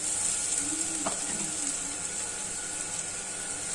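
Onions with chopped vegetables and spices frying in a pan for salty seviyan noodles, a steady close sizzle throughout with a brief stir near the start and no talk.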